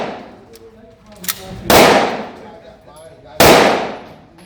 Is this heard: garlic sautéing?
no